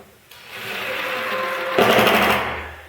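A power tool drives screws into wood while a woodworking vise is built. It gives a close, steady whirring motor whine that starts abruptly, climbs in pitch and intensity partway through, then tapers off at the end.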